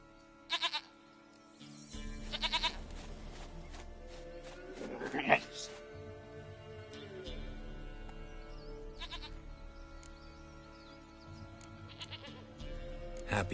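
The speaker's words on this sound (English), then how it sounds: "Goat of mine, dearest, sweetest goat." A goat bleats in The Witcher 3: Wild Hunt in several short, wavering calls spread through the scene. Game ambience sits underneath, with a few louder thumps mixed in.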